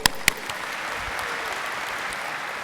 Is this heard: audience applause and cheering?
yes